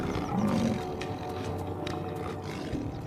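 A lion roars at cattle in an open setting, a loud, sustained growling roar with rumbling low tones, heard alone without speech.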